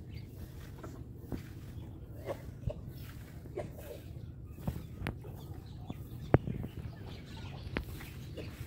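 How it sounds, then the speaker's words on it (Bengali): Beside a river with boats, scattered bird calls sound at a moderate distance: short chirps and clucking notes repeat irregularly over a low, quiet outdoor hum. "পাখির কলকাকলিতে মুখরিত হয়ে উঠেছে এখানকার পরিবেশটা"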